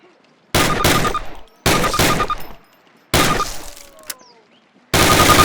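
Four separate loud bursts of rifle fire in the World War II shooter Call of Duty (2003), each a short cluster of sharp cracks with brief echoing tails, split by clear silent gaps.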